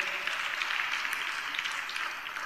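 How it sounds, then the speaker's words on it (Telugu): A church congregation applauds loudly after worship, a steady dense wash of clapping that holds at an even level for the whole stretch, with no talk over it. "చప్పట్లు కొడదాం అందరం గట్టిగా."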